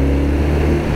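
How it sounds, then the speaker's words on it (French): BMW R 12 with a 1200cc flat-twin engine rumbles steadily at idle, a dense, continuous low growl with a throbbing undertone, close and loud with no voices over it. "qui grommelle un peu. En fait c'est le flat twin dans toute sa splendeur"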